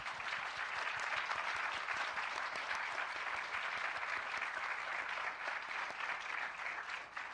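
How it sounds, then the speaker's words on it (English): Audience applause at a conference event, a steady, moderately loud round of many hands clapping that tapers slightly near the end. "Let's give them a round of applause."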